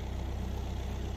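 A tractor engine idles steadily with a low, even rumble, nearby and alone, while hitched to a cultimulcher during fall food plot field work.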